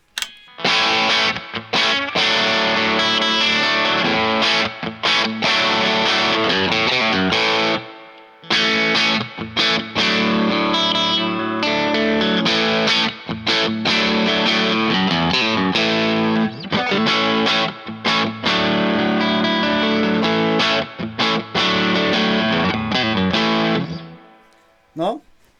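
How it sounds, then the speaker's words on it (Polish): Electric guitar played through a ProCo RAT distortion pedal at low gain, likely a Sire Larry Carlton T3 or T7 Telecaster-style guitar, loud sustained chords and riffs with brief pauses, fading out at the end. "Słuchajcie, to jest szczur. Gram właśnie na sturze, czyli na distortion do łojenia metalu."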